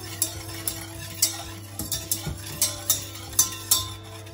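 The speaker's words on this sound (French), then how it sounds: "Bien mélanger le sucre et l'eau pour que ça soit homogène." A utensil stirs sugar and water in a pot, tapping and clinking against the sides in a steady rhythm of about two strikes per second over a low constant hum, close and clear.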